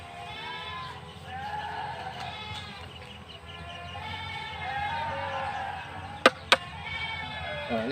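Goats bleat and call repeatedly, overlapping at close to moderate range. Two sharp knocks cut through near the end, and there is faint background murmur.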